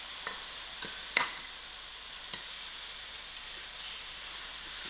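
Tomatoes added to a hot pan with a sizzling mix for a lamb mince kebab and coconut sauce dish, a soft steady hiss of frying with a few faint clicks of stirring and one louder clack.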